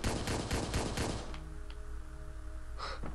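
Rapid gunfire from the video game Hotline Miami 2: Wrong Number, a burst of sharp repeated shots that stops after about a second and leaves a low droning tone and a faint thump.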